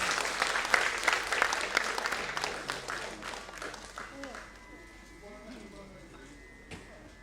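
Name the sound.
audience applause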